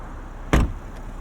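The door of a 2024 Toyota GR Supra 45th Anniversary Edition shuts once as the driver gets out, a single close solid thunk over a quiet background, followed by a faint softer knock.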